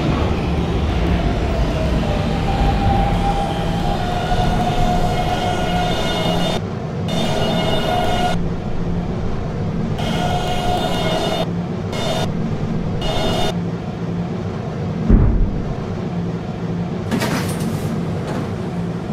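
An R152 subway local train on the 11 line in Roblox runs with a loud, steady rumble and a tonal motor whine. The noise drops out in short gaps, and a single heavy thump lands near the end.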